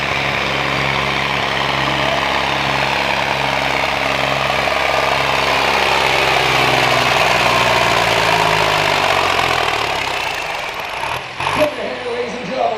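A 6,000-pound Pro Farm class tractor runs at a truck and tractor pull in Melbourne, Ontario, its engine a loud, sustained droning roar that wavers in pitch before cutting off near the end.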